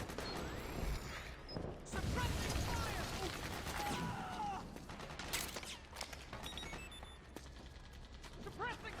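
Bursts of suppressing gunfire crackle in Metal Gear Solid 4, sharp shots and rattling volleys mixed with mechanical clatter and crashes, dense and chaotic, with voices shouting underneath.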